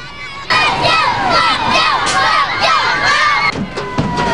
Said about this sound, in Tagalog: Kahit saan siya dumaan, walang tigil ang hiyawan.